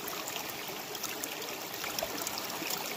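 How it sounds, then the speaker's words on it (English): Water sloshing and trickling steadily in a gold pan while panning material off a chunk of iron pyrite at a placer gold deposit, a continuous close splashing wash with no talk. "See if I can pan a little bit off."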